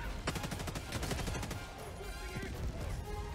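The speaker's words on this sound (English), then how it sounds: "Firing at back tank." In-game gunfire aimed at a tank in the video game Helldivers 2, rapid automatic bursts in the first half, giving way to dense rumbling battle noise with faint voices underneath.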